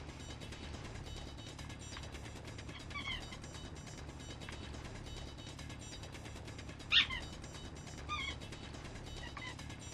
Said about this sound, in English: As always, that is my dog in the background.